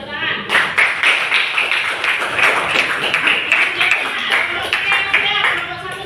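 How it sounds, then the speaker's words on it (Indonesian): A classroom of students claps hands together for about six seconds, a dense, steady burst of many hands with some voices mixed in. "Kita tepuk tangan."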